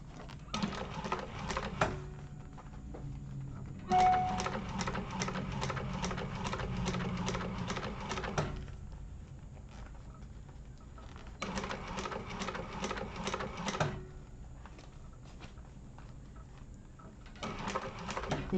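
A sewing machine runs in bursts while top stitching, a rapid mechanical patter in several long runs separated by brief pauses, moderately quiet and close.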